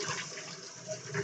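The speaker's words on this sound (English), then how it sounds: "So just kind of run it over cold water like this." Cold tap water running over boiled eggs in a kitchen sink, a brief soft splashing stream.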